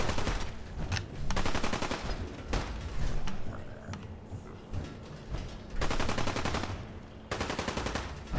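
Rapid bursts of video game gunfire from shooting enemies in Fallout 4, automatic volleys in several loud clusters separated by brief lulls, dense and close throughout.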